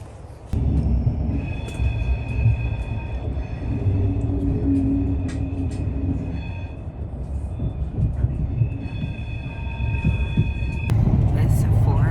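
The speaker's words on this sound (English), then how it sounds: "This 4-hour train ride has flown by." A passenger train with premium seating rumbles steadily along the rails from inside the carriage during a four-hour trip from Venice toward Rome, with a low continuous roar, faint rhythmic clacks, and occasional voices.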